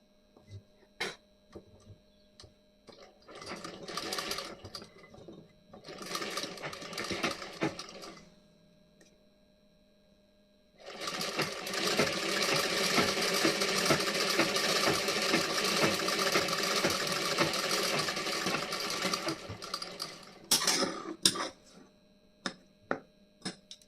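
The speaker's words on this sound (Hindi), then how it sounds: "यहाँ पे मैं सिलाई लगाऊंगी" A sewing machine runs in short bursts and then one long steady stretch, stitching tucks along a blouse back neckline; the rapid mechanical whir is close and loud, with clicks and handling noises between runs.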